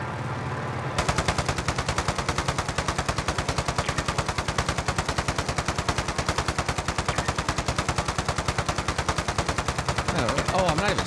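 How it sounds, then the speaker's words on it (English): Sustained automatic gunfire in a battle-royale-style shooter video game, aimed at a Christmas tree, rattles on loud and steady in a dense, even rhythm for about ten seconds. "Shooting at the Christmas tree."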